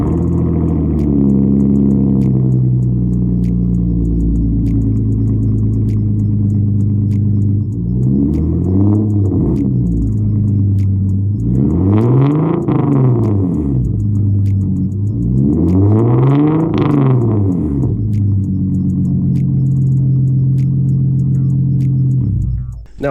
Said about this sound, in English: So I'll go ahead and get a quick little start up for you guys and some revs with this exhaust.